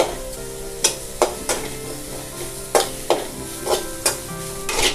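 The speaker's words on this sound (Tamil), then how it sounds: "இப்போ தேங்காவை நம்ம நல்லா வறுத்து எடுத்துக்கலாங்க" Grated coconut dry-roasting and being stirred in a pan over a medium flame, with a steady soft sizzle and repeated scraping stirs at irregular intervals, close and clear, no talking.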